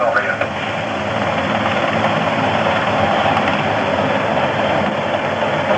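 A loud, steady helicopter roar fills the scene as it approaches the aircraft carrier Yorktown, a dense continuous engine and rotor wash close by.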